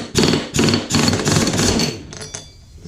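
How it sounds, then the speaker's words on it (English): A 1/2-inch drive impact gun with a 15/16 socket working a bolt on a Toro ZTR mower deck with a 50-inch cut, several loud, close rattling hammer bursts in quick succession before fading. "moved up to a 1/2-inch drive impact gun, and this is a 15/16 socket"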